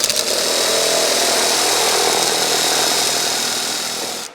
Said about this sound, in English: We're abandoning the hand shear, or the tin snips. We're going full power mode.